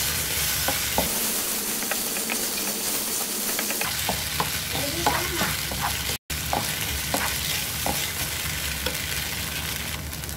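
A spatula repeatedly scrapes and stirs through chilli fish Manchurian sauce in a frying pan, with a steady background sizzle and a brief dropout near the middle.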